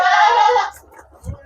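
A goat bleats loudly and close in a goat pen in Batam, one drawn-out cry followed by quiet shuffling.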